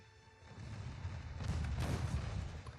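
A warship explodes in a naval battle video game, a dull booming rumble that swells and lingers over about three seconds, moderately loud with no talking.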